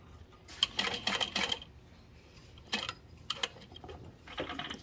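A sewing machine stitches a backpack in two or three short runs of quiet mechanical whirring and clicking, separated by pauses.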